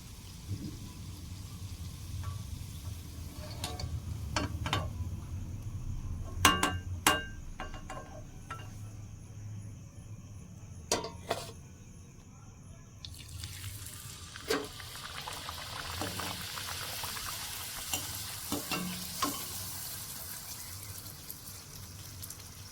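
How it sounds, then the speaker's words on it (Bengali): Luchi flatbread deep-frying in hot oil, a close, constant bubbling crackle with scattered pops and clicks that swells louder and brighter in the second half. "তো একে একে আমি সব লুচিগুলোই ভেজে নেব।"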